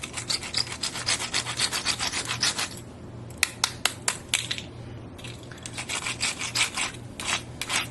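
Barbie Flicker 'N Flash rollerblades being scraped hard and fast to throw sparks, giving a dense, gritty rasping made of rapid strokes that briefly thin into separate scratches midway before the steady grinding resumes.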